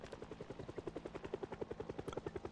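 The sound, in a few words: helicopter flying overhead in the video game Project Zomboid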